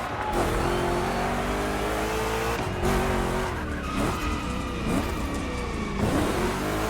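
Chevrolet big-block cars race in The Crew Motorfest on a gymkhana course, with loud sustained engine roar and repeated tire squeals and skids as the cars slide through rough turns.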